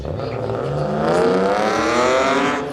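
A BMW 440i drag racing car launches down a quarter-mile strip at a street-legal drag event, its engine rising in pitch as it accelerates hard. The steady, loud roar holds throughout with no talk over it.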